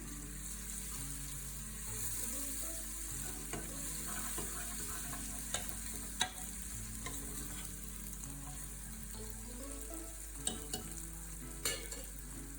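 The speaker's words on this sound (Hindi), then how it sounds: "लहसुन अदरक का पेस्ट मैंने डाल दिया और इसको मैं हल्का सा भूनूंगी" Steady, quiet sizzling of paste frying in a pan, with occasional sharp clinks of a spoon stirring against metal.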